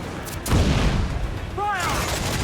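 A heavy ship's cannon in Assassin's Creed 4: Black Flag fires one loud, close boom, followed by a whooshing trail and shouted voices as the naval battle goes on.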